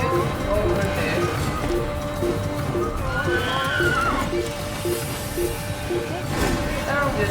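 A horse in the Assassin's Creed video game whinnies and its hooves clip-clop at a run, with rhythmic hoofbeats under game sounds and a voice talking over it.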